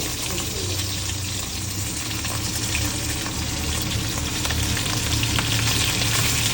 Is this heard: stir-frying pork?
yes